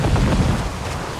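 A thunderstorm at sea in the pirate game Assassin's Creed IV: Black Flag, a loud, steady roar of wind and rain with a deep rumble of thunder running through the whole short stretch.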